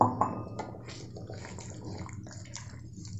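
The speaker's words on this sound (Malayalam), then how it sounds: "അതിപ്പോൾ ഞാൻ ചൂട് വെള്ളം കേട്ടോ ഒഴിച്ചു കൊടുത്തത്." Hot water is poured into a kadai paneer gravy in a pan, a close splashing pour loudest at the start that quickly tapers into soft trickling and bubbling.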